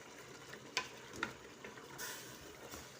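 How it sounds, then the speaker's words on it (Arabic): Beef browning in a pot gives a close, steady sizzle with a few sharp spits and pops, the oil crackling continuously without any voices. "يعني اللحم راهو مازال يتحمس مليح"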